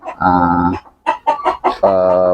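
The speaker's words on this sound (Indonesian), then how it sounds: "ayam itu mulai berisik, ketok-ketok" A hen in a laying flock clucks loudly and insistently at close range, with long drawn-out calls at the start and end and a quick run of choppy clucks between them.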